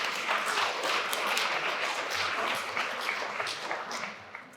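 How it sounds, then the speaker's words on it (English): A worship congregation applauds, a fairly close, busy patter of many hands clapping that tapers off toward the end, with no talking over it. "by all means, you can applaud for Claudia."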